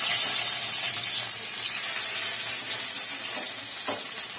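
Chopped garlic and dried red chilli sizzling in very hot oil in a wok, a loud, dense, continuous crackling hiss close up with no talk.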